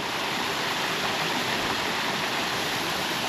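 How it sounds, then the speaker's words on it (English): A moorland waterfall roars as a steady, dense rush of falling water, loud and close, with no other sounds. "is a decent waterfall"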